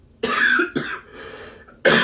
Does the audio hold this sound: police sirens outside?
no